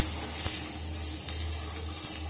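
Onions and washed curry leaves sautéing in a pan, a short, steady, close sizzle with a dense hiss and a few soft stirring knocks.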